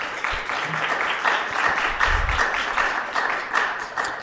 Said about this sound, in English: the audience is clapping